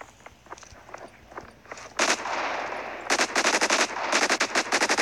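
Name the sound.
pistol gunfire in Modern Strike Online video game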